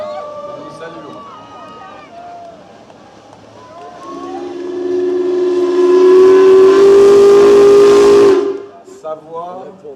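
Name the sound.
whistle of the paddle steamer Simplon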